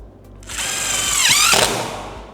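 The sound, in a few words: drilling a screw in through a template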